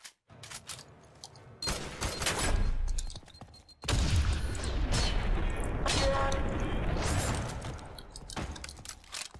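Gunfire in the video game F.E.A.R. 3 comes in dense loud bursts of rapid shots with booming impacts, separated by short lulls, close up and continuous for most of the stretch.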